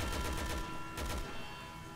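Rapid gunfire from Resident Evil 6 during co-op play, a dense burst of shots at the start that thins and then returns around the one-second mark, with a steady game soundscape continuing underneath.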